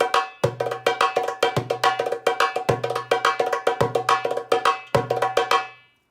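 Sharp tak strokes on a hand drum ring out alone in a steady pattern, several crisp slaps with ringing overtones, some followed by a low sustained hum, each decaying quickly before the next.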